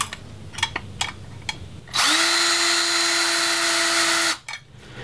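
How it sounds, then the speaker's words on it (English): A power drill fitted with a masonry bit bores a hole while a threshold is installed in a tiny house, one loud steady whine running about two and a half seconds after a few light taps, then stopping abruptly. "I'm going to take a masonry bit here and, well, yeah. Okay, I'm going to just drill a spot right here."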